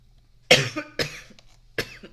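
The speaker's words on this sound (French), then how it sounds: "Pardon, j'arrête pas de tousser" Three sharp coughs from one nearby person, spaced apart with short pauses, over a faint low hum.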